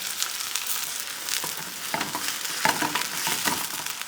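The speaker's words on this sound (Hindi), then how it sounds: "घी गर्म हो गया है। और अब हम डालेंगे कटा हुआ प्याज" Chopped onions sizzle in hot ghee in a pan, a bright steady frying hiss close up with occasional stirring scrapes.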